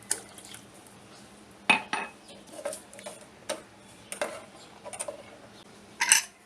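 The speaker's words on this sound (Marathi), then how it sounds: "हे झाकण लावून मी आता कुकर बंद करते" A steel pressure cooker lid being fitted and shut on a pot of peanuts and water, heard as a handful of sharp, close metallic clanks and clicks spread unevenly over several seconds in a quiet kitchen.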